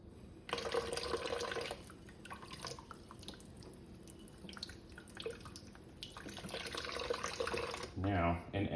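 Distilled water poured over a reflecting telescope's primary mirror to rinse it, a steady trickling splash running in bursts, close and fairly loud, with a brief louder gush near the end.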